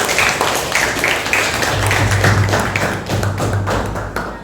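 A classroom of students claps for a presenting group, a dense, close, continuous patter of many hands that holds steady for several seconds with no talking over it.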